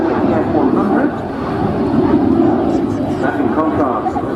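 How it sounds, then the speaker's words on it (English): A Belgian F-16A MLU jet with a single Pratt F100 engine makes a slow display pass, its broad roaring engine rumble steady and loud beneath continuous commentary. "soon he'll be re-engaging afterburner on the aircraft's single engine, the Pratt F100"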